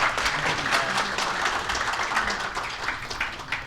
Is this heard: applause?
yes